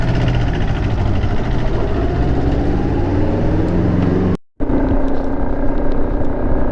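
A Honda CBR 250R motorcycle ride on a wet road makes a steady, loud engine drone and road rumble close to the microphone, broken by a brief cutout partway through.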